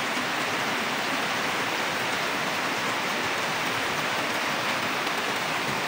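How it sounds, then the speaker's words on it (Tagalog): Heavy rain pours down steadily in an outdoor street setting, a dense, loud, continuous hiss with no letup and no voices over it. "malakas ang ulan"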